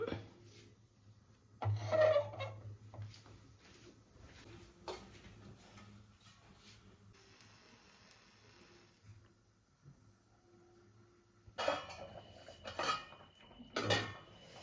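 Metal pot of fish curry with bilimbi set down onto a stovetop, clanking and scraping at moderate volume, with further clatter of pans and utensils later; quiet kitchen background between knocks.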